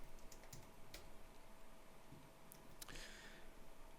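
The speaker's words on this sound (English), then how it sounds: "we start off by typing in yarn create" Computer keyboard typing while entering a terminal command for a Remotion project, a quiet stream of scattered key clicks with a few sharper taps, alone with no talk.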